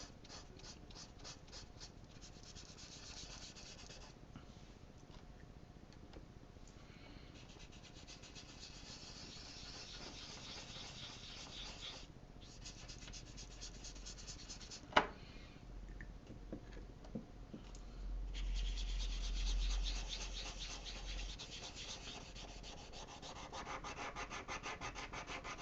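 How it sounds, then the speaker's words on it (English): Soft brushing and rubbing on a mixed media paper layout as a rub-on transfer is pressed down, a steady scratchy friction running throughout with one sharp tap midway, close and fairly quiet. "So you're basically going to rub it on top."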